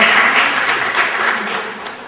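Audience applause at a student advertising and media awards ceremony in Casablanca, a steady dense wash of clapping filling the hall, loud and continuous, with no voices rising above it.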